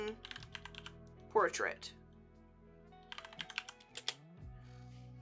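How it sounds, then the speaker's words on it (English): Computer keyboard typing a search in the Adobe Express image library, a short burst of soft key clicks near the start and another cluster of keystrokes later, with a voice speaking briefly in between. "I'm just going to type woman"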